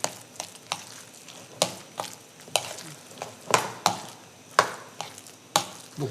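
A rice mixture frying in a dimpled pan in a Gjirokastër kitchen, with steady sizzling broken by about a dozen sharp scraping stirs at an irregular rhythm, close and moderately loud, with no talk.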